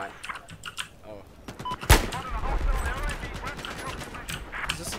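A sharp, loud gunshot cracks from a shooter video game near the two-second mark, among scattered clicks and smaller pops, while people talk and laugh over the game noise.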